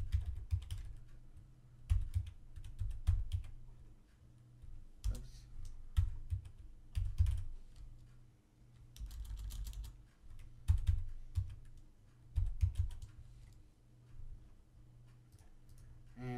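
Login name and password typed on a computer keyboard, with irregular bursts of quick, close key clicks and a few heavier keystrokes across about sixteen seconds, quiet and without speech.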